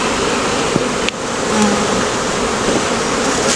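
A honeybee swarm buzzes steadily and loudly throughout during a hive removal, a dense continuous drone close by with a brief tap partway through.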